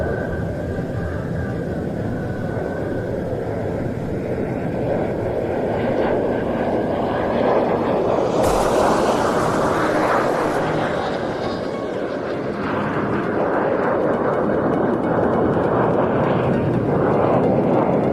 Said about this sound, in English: الطائرة منفردة L-39 القادمة مع عجلات الهبوط وجناحات ممتدة.